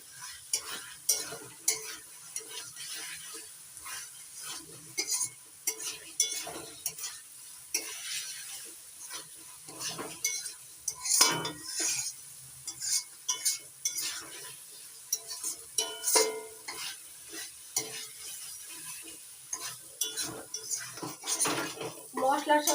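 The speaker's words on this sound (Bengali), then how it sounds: "আলুটা মশলার সঙ্গে ভালো করে কষিয়ে নেব, নাড়াচাড়া করে মিশিয়ে নিচ্ছি মশলার সঙ্গে" Fried potatoes stirred into masala in a pan while cooking a vegetarian paneer dish: steady sizzling with frequent scraping and clinking of a metal spatula against the pan, continuous and close throughout.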